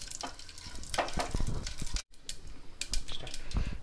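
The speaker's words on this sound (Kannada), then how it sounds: "ಸಾಸಿವೆ ಹಾಕ್ತಾ ಇದ್ದೀನಿ, ಸ್ವಲ್ಪ ಚಟಪಟ ಆಗಲಿ." Mustard seeds spluttering in hot oil and ghee, a close burst of sharp crackles and pops over a frying hiss, with one brief cut in the middle.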